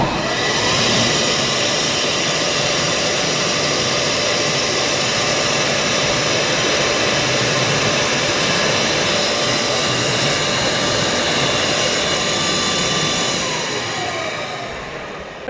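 Electric hand dryer in a public restroom blowing a loud, steady roar of rushing air that holds for about fourteen seconds, then trails off as it shuts down.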